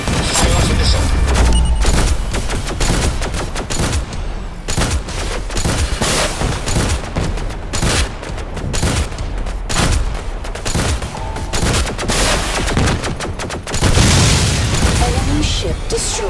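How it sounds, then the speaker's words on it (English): Missile launches and explosions from the space combat game Star Conflict, a dense continuous barrage of booms and bursts with rapid weapon fire throughout, loud and close, with some game voice audible underneath. "Fire off the missile."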